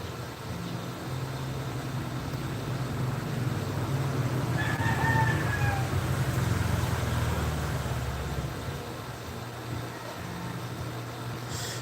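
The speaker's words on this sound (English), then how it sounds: "I think there's a rooster fight somewhere down the road." A rooster crows once down the road, a faint, distant cry rising over a steady low rumble of outdoor background noise, with no talking.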